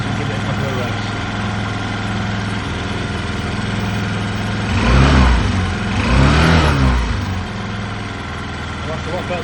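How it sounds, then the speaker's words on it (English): A Honda Lead SCV100 scooter engine idles steadily and is given two short blips of revs that rise and fall in quick succession, heard up close. "See what happens when we give it a couple of revs."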